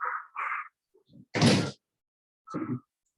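At home, a door gives one loud, full thud, set among a few quieter scattered knocks and shuffles before and after.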